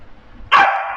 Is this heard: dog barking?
yes